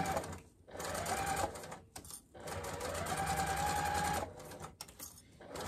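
Sewing machine stitching a seam on a fabric car trash can, a steady close whirring run that pauses briefly and then resumes for a longer stretch.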